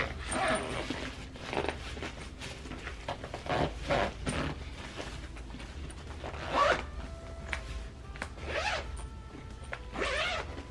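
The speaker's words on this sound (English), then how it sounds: "zip this up." A carry-on suitcase is zipped shut in several quick, close zipping strokes spread across the stretch, with soft handling noises and rustling between them.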